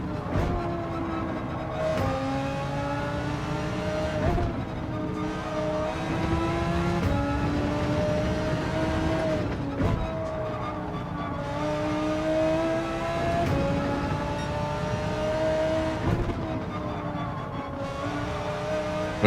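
Race car engine in Gran Turismo 7 during a 24-hour solo run on the Nordschleife, droning steadily with rising and falling rev sweeps through repeated gear changes, continuous and loud with no voices.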